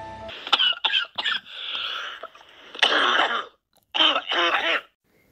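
A man coughs in harsh, rasping bursts, several fits spread across a few seconds with short pauses between them, close and fairly loud.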